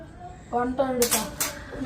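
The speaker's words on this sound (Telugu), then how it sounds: "గిన్నెలు తోముతావా?" Metal pots and dishes being scrubbed by a young boy in a home kitchen, a few sharp clinks and scrapes over a second or so, close by, with someone talking over them.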